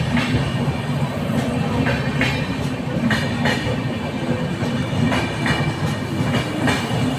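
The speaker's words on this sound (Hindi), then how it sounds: "मस्त ट्रेन जा रही है ना दिशा।" A train rolling past close by, a loud continuous rumble with a regular clickety-clack of wheels over rail joints running the whole time.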